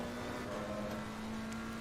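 A McLaren 720S EVO in Assetto Corsa Competizione, driven around Suzuka, gives a steady, close engine drone at a constant pitch with no clear gear change, and no voices are heard.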